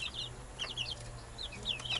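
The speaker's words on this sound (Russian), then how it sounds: "Вот опять петушки дерутся." Roosters scuffle in a village yard, giving short, agitated clucks and squawks in quick bursts over a low background hum.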